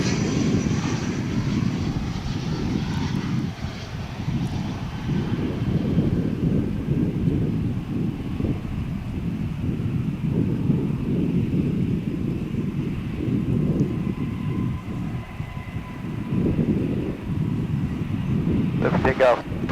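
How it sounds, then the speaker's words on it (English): An American Airlines Airbus A321 flies past at DFW International Airport, a loud, sustained engine roar with wind buffeting across the whole stretch, and a brief sharp burst near the end. "This is going to be Flight 698 and Airbus A321. Flying through your screen there"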